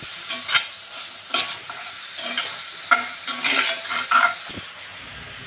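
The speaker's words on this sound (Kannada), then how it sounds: "ಪೌಡ್ರನ್ನ ಹಾಕೋತಾ ಇದ್ದೀನಿ ನಾನು. ಹಾಕ್ಕೊಂಡು ಸ್ವಲ್ಪ ಮಿಕ್ಸ್ ಮಾಡ್ಕೊಳ್ಳೋಣ." Spice powder is stirred into chicken frying in a pan, with a soft sizzle under repeated scraping strokes of a spoon against the pan, heard close up without talk.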